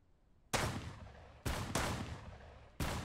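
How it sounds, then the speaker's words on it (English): Four loud gunshots from the Mist Survival video game, each a sharp broadband crack with a long decaying tail, spaced irregularly over about three seconds with no talk. "Doesn't work when you're shooting and I can't see you."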